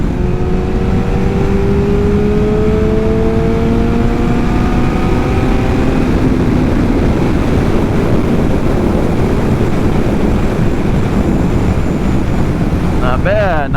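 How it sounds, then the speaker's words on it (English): A Kawasaki ZX7R motorcycle pulls hard in fifth gear from about 70 to 100, its engine note climbing steadily beneath loud, constant wind roar at the microphone. "Alright, let's drop it down into 5th gear. 5th gear, get to 70, we'll go to 100."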